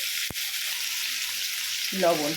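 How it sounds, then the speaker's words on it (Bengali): Potatoes frying in hot oil in a pan, a steady close sizzle running throughout, with a brief clatter of stirring near the end and no talk over it. "আলুটা খুব ভালো করে ভেজে দিতে হবে, একটু নাড়াচাড়া করে নিলাম"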